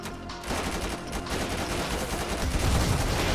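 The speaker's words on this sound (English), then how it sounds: "You guys hearing the shots?" Dense, continuous gunfire from GTA 5 with the LSPDFR police mod, sustained automatic bursts that stay loud and steady throughout, with heavier low thuds near the end.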